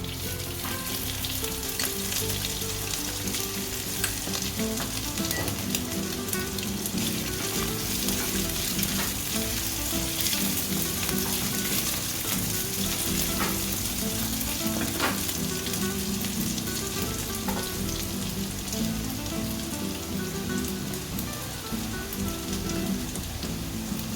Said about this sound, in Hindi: ये जीरा लाल हो गया है। अब हम इसमें डालेंगे कटे हुए अदरक